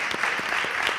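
Dense, steady applause from a theatre audience at an on-stage interview event, loud and continuous throughout with no gaps.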